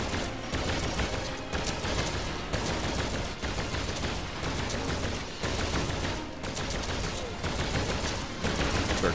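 Rapid, continuous gunfire from special weapons in the Contra: Rogue Corps video game, a dense loud barrage with mechanical clatter and periodic bursts running for the whole stretch.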